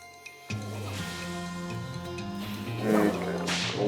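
A whip attack lands in the video game West of Loathing as a sharp crack followed by a swishing swoosh and game tones, moderately loud with no talking.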